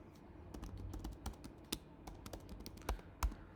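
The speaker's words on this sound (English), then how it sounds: "And I can type in a few things here." Keys clatter on a computer keyboard in irregular bursts of close, crisp taps, a few strokes landing harder than the rest, with no voices over them.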